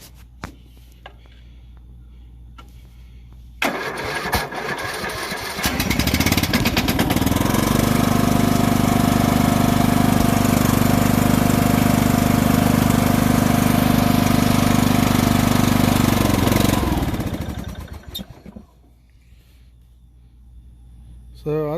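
A Poulan 38-inch riding mower's small engine runs on old fuel, starting with sputtering, settling into a loud steady drone for about twelve seconds, then cutting out into quiet.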